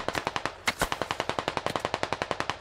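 Rapid automatic gunfire from the video game SquadOps, a steady stream of about two dozen sharp, evenly spaced shots with one heavier crack near the start, loud and close with no talk.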